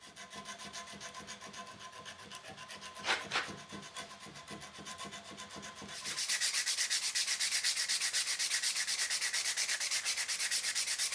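Sandpaper rubbed by hand over a fantasy blade's handle, a steady rhythmic scratching that turns brighter and louder partway through and keeps a fast back-and-forth pace, close and alone.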